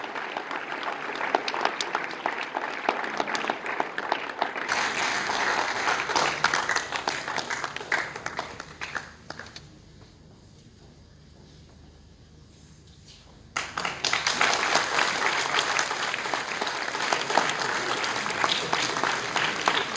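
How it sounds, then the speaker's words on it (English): Loud, sustained audience applause at a Boys' Final awards ceremony, dense clapping that fades out briefly in the middle, then resumes just as strongly for several more seconds. "A big round of applause, ladies and gentlemen."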